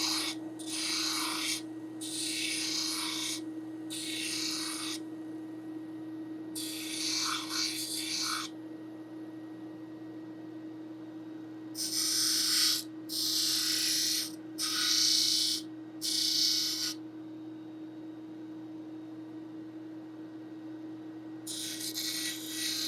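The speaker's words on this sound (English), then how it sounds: "I want to chamfer these edges here so they're not just sharp up and down. So I'm just going to do that right here on the disc sander." A disc sander chamfering the sharp edges of a steel-string guitar neck, with about ten short bursts of rasping wood sanding over the machine's steady motor hum, the passes coming in quick clusters separated by gaps.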